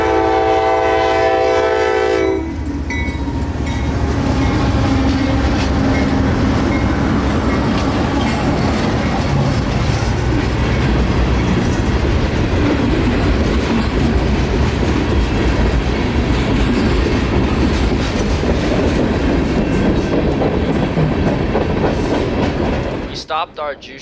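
A northbound coal train sounds a loud, drawn-out horn blast, then rumbles and clatters past close by for some twenty seconds, wheels clacking steadily before the sound cuts off abruptly.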